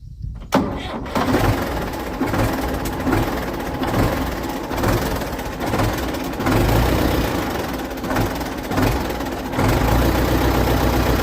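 A Belarus 400A tractor diesel engine runs steadily after a new starter install, a loud close rumble that catches right at the start and holds a rough, even idle with slight surges throughout.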